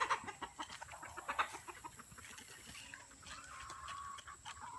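Chicken clucking out on a farm, brief soft bursts repeated a few times at a moderate distance over steady background noise.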